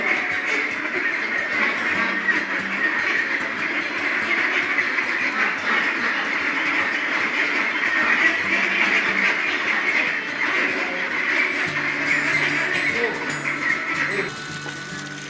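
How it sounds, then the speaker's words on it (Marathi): White Pekin ducklings at a duck farm quack and peep continuously in a busy, steady chorus, with a voice speaking over them. "आणि हे बदक पिल्लू आहे"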